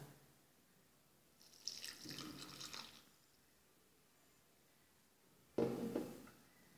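Milk poured into thick banana cupcake batter for an oven-free bake: two short liquid pours, the first lasting over a second and the second a brief splash near the end, with quiet pauses around them.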